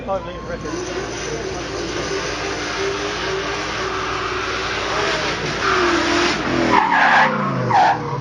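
A car with a 4.5 litre Rover V8 skids at the Beaulieu supercar event, its engine roaring steadily as the tyres squeal, the noise swelling louder near the end.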